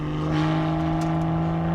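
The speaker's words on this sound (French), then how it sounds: "Et vous avez l'échappement sport qui s'est ouvert." BMW M2 engine revving with its sport exhaust valve open, a steady loud engine drone with strong low harmonics, close and without talk.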